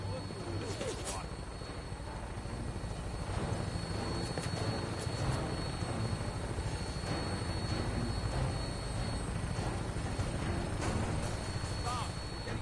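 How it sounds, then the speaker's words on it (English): A vertibird aircraft in Fallout 4 drones steadily with rotor and engine noise throughout, under people talking. "When we land, Tinker's gonna keep the vertibirds cool for immediate takeoff."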